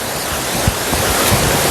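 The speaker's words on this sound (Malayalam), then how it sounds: "കുഴിയിൽ നിന്ന് വെള്ളം ഇങ്ങനെ പോവാണ്." A small waterfall near Mount Albert in New Zealand, water spilling out of a little pool as a steady close rush of broadband splashing noise, with a couple of brief low knocks and no talking.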